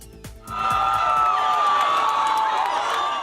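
A crowd of supporters cheering and whooping at Maiquetía International Airport, the roar swelling loudly after a brief quieter start and holding steady, with scattered shouts and clapping mixed in.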